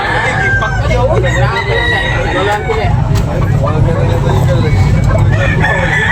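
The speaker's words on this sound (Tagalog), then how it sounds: "Ang mga manok ni bossing ngayon, Boss Edwin, pinakyaw." Roosters crow repeatedly among clucking chickens, loud and close, with a steady low rumble of background noise and occasional voices.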